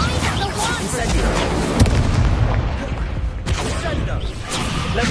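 Fire spell cast during combat in the video game Hogwarts Legacy on PS5, a loud booming blast amid continuous clashing effects and bursts, with a sharp hit partway through and dense battle noise throughout.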